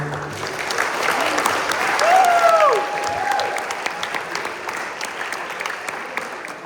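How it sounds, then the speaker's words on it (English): A crowd at a school volleyball spring awards ceremony applauds steadily, the clapping swelling briefly in the middle before carrying on, with a high whistle cutting through once. "can you give a round of applause for the parents out here"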